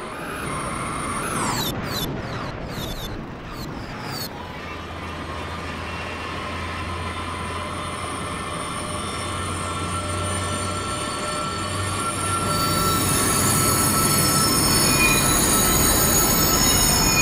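A train with its brakes still applied squeals along the rails in Train Simulator 2017 at Krammendijk, a loud, sustained metallic screech over the rumble of rolling wagons that swells stronger toward the end.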